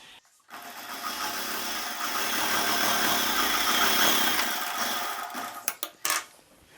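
Sewing machine stitching the lining onto a silk saree blouse at the neck, a steady close whirring run of several seconds that stops, followed by a few sharp clicks and knocks.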